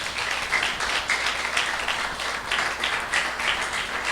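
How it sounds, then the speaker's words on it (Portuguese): A church congregation applauds during a worship service, continuous full clapping from many hands, loud and close, with no talking over it. "Você pode dar um forte aplauso ao Senhor"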